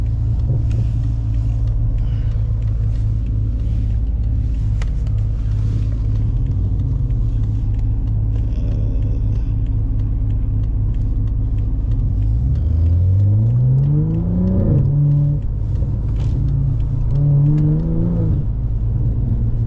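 A BMW M340i with a single-turbo exhaust drones with a loud, low rumble while driving through snowy city streets, then revs rise twice in smooth sweeping pulls near the end.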